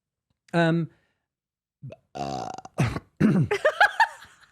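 A man lets out a loud, close burp, then after a pause there is a short vocal sound and he starts speaking.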